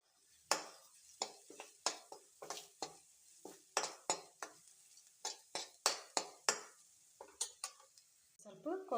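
Onions and garam masala stirred in a pan for bread manchurian, a spoon scraping and knocking against the metal in quick, uneven strokes, close and crisp with quiet gaps between.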